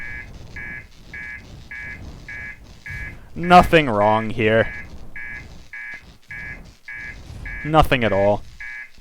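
A spaceship alarm in Outer Wilds sounds as a steady rhythm of short beeping pulses, with a louder warbling siren rising twice over it and someone talking between them.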